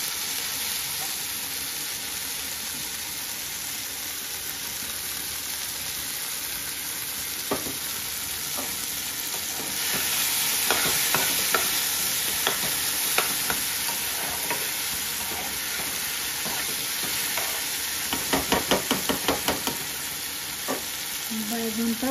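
Eggplant and tomato fry in fish oil in a pan, giving a steady close sizzle with bursts of crackling and scraping stirs that grow busier toward the end.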